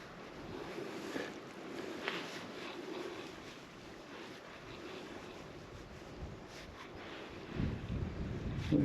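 Steady wind gusting across an open coastline during shore fishing for wrasse, a continuous broadband rush with microphone buffeting that swells louder near the end, no talk.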